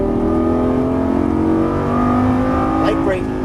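A Lamborghini Gallardo LP550-2 engine drones loud and steady under throttle on a track, a sustained close-miked rev with a rising sweep near the end, while a voice coaches over it.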